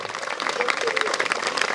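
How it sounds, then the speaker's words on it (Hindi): Audience applause at a school program held at Gaumukh Mandir in the Sillewani Range, a short burst of dense clapping from a gathered crowd with some voices blended in. "उनके लिए भी तालियां"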